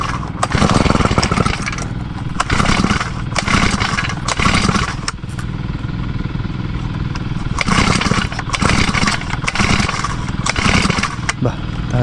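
A grass cutter engine roars close and loud in a farm field while crops are being irrigated, its rough drone surging and dipping in repeated bursts as it works.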